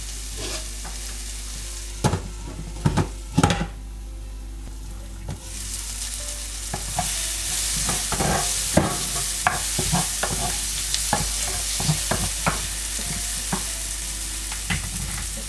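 Crab curry sautéing and being stirred in a pan, a steady close sizzle running throughout with scraping stirring strokes, sharper clatters early on and a louder, denser fry in the second half.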